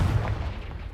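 A Confringo fire spell blasts in the game Hogwarts Legacy, a single heavy boom that rolls out into a low rumble, loud and close.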